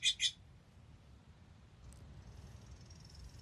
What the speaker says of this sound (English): If you cannot hear those birds in the background